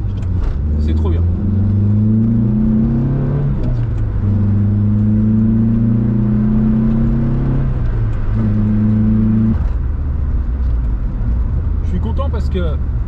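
A Volkswagen Golf 2 GTI 8-valve drives along, its engine drone rising and settling through several gear pulls, steady and close throughout.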